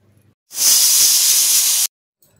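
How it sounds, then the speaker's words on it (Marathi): A pressure cooker on the stove, cooking colocasia leaf curry, lets off one loud burst of hissing steam that starts abruptly, holds steady for over a second, then cuts off sharply. "झाकण लावून घ्यायचं आणि आपण शिटी करून घेऊया"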